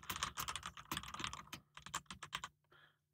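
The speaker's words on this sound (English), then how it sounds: "then I can type the body of the text" Fingers type on a computer keyboard in quick, uneven bursts of close, crisp key clicks, pausing briefly before a second flurry and a final soft tap, with no talking.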